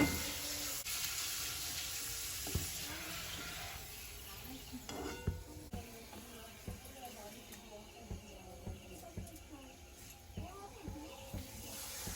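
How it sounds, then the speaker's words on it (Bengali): Papads frying in hot oil after pakoras, heard as a faint sizzling hiss scattered with soft pops and crackles through the whole stretch. "কটা পাঁপড় ভেজে নেবো ওই তেলে"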